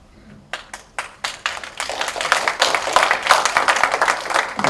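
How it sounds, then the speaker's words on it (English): At a brownfield educational workshop, a few sharp individual claps ring out first, then quickly swell into fuller, steady applause from the seated audience that keeps building to the end. "Applause, thanks."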